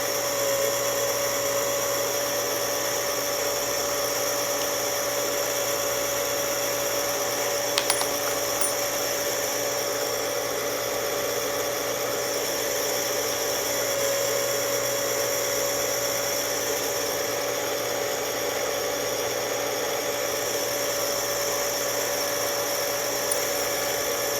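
A power trim station trimming nickel .223 Rem brass down to .300 Blackout, a steady, loud, high motor whine running throughout, with one brief metallic clink partway through and no speech.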